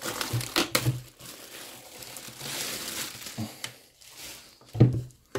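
Cardboard box packaging of a Hyundai CJC product being opened, with crinkling and crushing of packing material in bursts, a couple of sharper rustles near the start and a louder crumple near the end.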